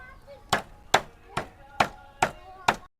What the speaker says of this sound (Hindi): इसकी खील को ठोक रही है